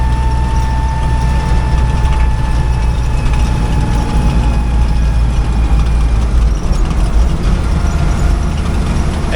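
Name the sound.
1956 Willys CJ5 new engine pulling uphill in third gear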